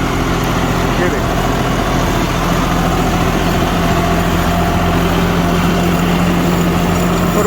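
An engine runs steadily in second gear at around 1600-1700 RPM, a loud, even idle-like drone with a tonal hum, while someone talks over it.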